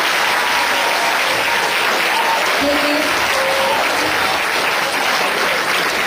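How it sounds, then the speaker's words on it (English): Debate audience giving the debaters loud, sustained applause, a thick, continuous roar of many hands clapping at once, with faint crowd noise mixed in. "So let's give them a loud applause"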